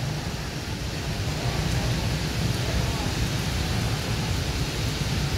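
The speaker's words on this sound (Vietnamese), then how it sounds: "À, dầm mưa về luôn." Steady rain pours over a street in Saigon's District 10 during a motorbike ride, a dense continuous hiss close around the rider with no break.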